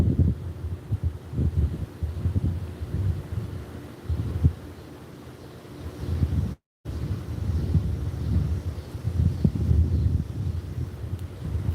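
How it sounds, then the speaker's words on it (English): Strong wind buffets the microphone in low, gusty rumbles that rise and fall continuously, with a momentary dropout partway through. "It's really, really windy out."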